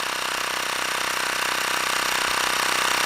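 A Xiaomi Mi portable air pump inflating an all-terrain bike tyre, a steady close buzzing motor drone with an even pulsing rhythm throughout.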